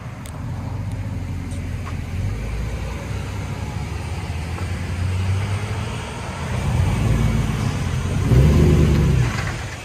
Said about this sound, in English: True dual Chevy Silverado. Straight pipe with an X.